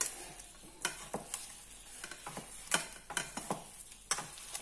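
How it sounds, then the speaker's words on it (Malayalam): Heated pumpkin and green chillies being stirred together in a pan, with a series of scraping, clinking spoon strokes at an irregular rhythm over a faint background hiss. "ഇനി നമ്മൾ ആ ചൂടാക്കി വെച്ച മത്തങ്ങയും പച്ചമുളകും എല്ലാം കൂടെ ഒന്നുകൂടെ ഒന്ന് ഇളക്കി"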